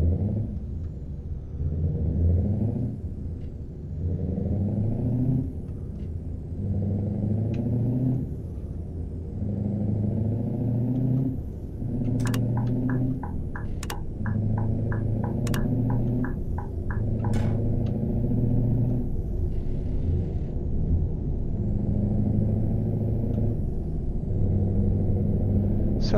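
A Scania truck with a 730-horsepower engine in Euro Truck Simulator rumbles steadily at low pitch for the whole stretch, with the note rising and falling as it accelerates, and a few sharp chirps come in partway through.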